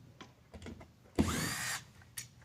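A power drill drives a long screw in a single loud whirring burst of about half a second, with faint clicks and handling noise before it and a short sharp click afterward.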